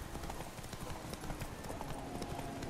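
Roach the horse in The Witcher 3 gallops with quick, rhythmic hoof clops, close and steady over a dense bed of rustling ambience.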